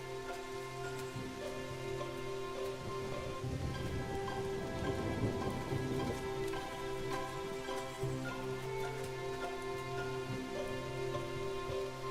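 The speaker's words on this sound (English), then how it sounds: "the rain falls to the ground again, bringing the water back to the ancient forest of centenarian oaks" Heavy rain pours down in an ancient forest of centuries-old oaks, a dense, steady patter of drops striking leaves and ground, with a soft low rumble swelling briefly midway.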